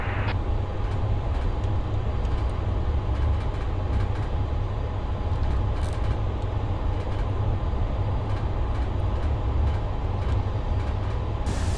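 F-14 jet engine taxiing in a flight simulator game: a steady, loud, low engine drone with a constant whine, unbroken throughout.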